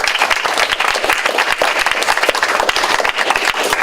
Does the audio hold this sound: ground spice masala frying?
no